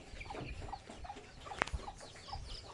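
Chickens cluck softly around a vegetable farm, their short calls scattered through a steady hiss of outdoor background noise.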